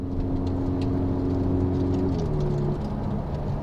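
A Ferrari 488 GTB turbocharged engine pulls hard on a cold road in race mode, a steady loud drone with rising harmonics that step down as it shifts near the end, with no talking.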